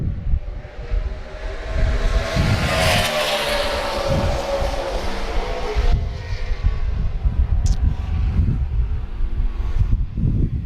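A loud, continuous NASCAR Sprint Cup stock car engine roar with shifting pitch during track testing, not at full throttle, steady throughout with wind noise.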